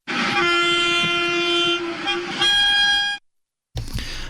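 A Vande Bharat Express train sounds a long, loud multi-tone horn over the rumble of its passage, with a brief change in pitch partway through before cutting off abruptly, followed by a short burst of train noise.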